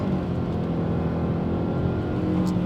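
The engine of a 2020 Nissan Rogue Sport hums and revs steadily while the car is driven, a smooth close engine drone with road noise.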